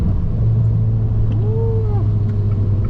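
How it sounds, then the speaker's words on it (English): A turbocharged car engine drones steadily and close up while the driver double-clutches on a downshift, with a brief rising and falling rev blip in the middle of the otherwise constant low rumble. "Double clutch downshift."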